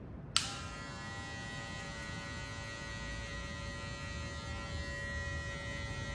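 Electric hair clipper with a comb guard cutting wavy hair, a steady close buzzing hum that switches on abruptly and runs evenly throughout, no voices.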